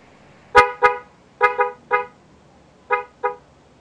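Short, sharp toots from a Mitsuba Arena car horn being tested after wiring, sounding seven times in quick pairs and singles, loud and close with no talk.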